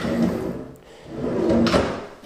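Bathroom drawers slide open and shut in an empty house, a couple of close wooden rumbles and a soft knock, with no talking over them.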